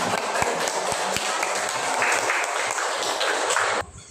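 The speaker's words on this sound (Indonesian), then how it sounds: "terima kasih tepuk tangan" Dense applause fills a room, a continuous wash of clapping from many hands with a few sharp taps standing out early, cutting off abruptly just before the end.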